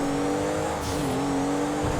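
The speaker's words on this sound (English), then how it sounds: "Let's get a bit of engine sound going." Tuned car engine in GTA 5 revving with a steady droning tone that dips briefly and climbs back, close and loud, with no voices.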